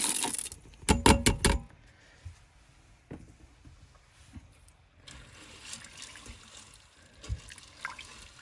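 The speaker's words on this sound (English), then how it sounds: "And then we're going to add in our beans." Canned beans with liquid poured into an Instant Pot, a wet splashing, dribbling pour followed by scattered clinks and soft sloshing in the pot as cooking continues quietly.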